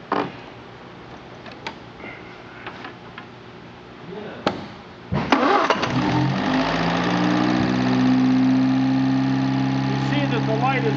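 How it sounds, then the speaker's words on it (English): An MG car engine cranks after some quiet handling noises, catches, and settles into a steady, close idle hum. "Well, if I can start the car."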